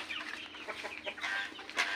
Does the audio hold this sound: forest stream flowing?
no